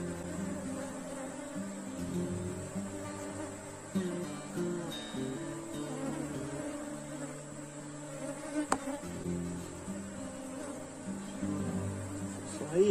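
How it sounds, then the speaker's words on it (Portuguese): Bees buzz around a beehive in a continuous, moderately loud drone of many insects, with a few brief louder passes close by. "Aí já ficou a abelha dentro."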